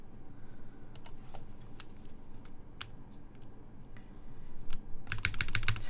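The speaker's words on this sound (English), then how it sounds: "So I do like that kind of like soft typing feel that it has." Typing on a Monokei x TGR 910 v2 mechanical keyboard, soft muted keystrokes that tap in an irregular rhythm and then quicken into a denser, louder flurry at the end, close by.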